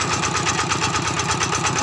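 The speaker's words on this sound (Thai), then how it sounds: "รถไถน่าจะเสียงดังกว่าเสียงผม" A farm tractor engine running nearby, a loud, steady chugging idle with rapid regular knocking pulses throughout.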